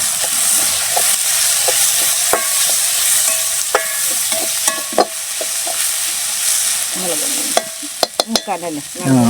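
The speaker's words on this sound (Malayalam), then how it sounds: "പിന്നെ ഇട്ടിട്ടൊന്ന് ഇളക്കുക." Chicken parts coated in chili powder fry loudly in a pan, with a constant sizzle and sharp scraping clicks as a spoon stirs them up close. No one speaks.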